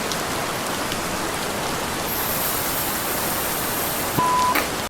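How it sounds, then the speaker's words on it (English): Rain falls steadily outdoors during a convention parade at AVCon, a dense, even patter close to the microphone with no umbrella overhead, and a faint brief tone near the end. "So, I had to walk in the rain with no umbrella"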